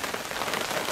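Steady rain pattering on a temporary roadside shelter in the Mekong Delta countryside, a dense, even hiss of drops with no breaks and no voices.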